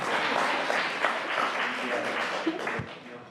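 Audience applause at a state Senate natural resources hearing, a dense wash of clapping from many hands that holds steady for several seconds, then thins and tapers off toward the end.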